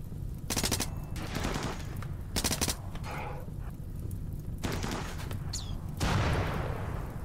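Gunshots ring out in a RimWorld colony fight, arriving as several rapid automatic bursts separated by short pauses, fairly loud and close, with no talk over them.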